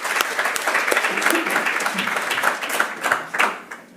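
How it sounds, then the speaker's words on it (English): An audience at a tourism industry panel discussion applauds, dense steady clapping from many hands that swells and then tapers off toward the end. "Give them a round of applause."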